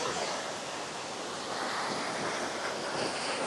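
Loud, steady rush of water from a waterfall at Westfield Falls, a dense continuous roar heard close up with no talking over it.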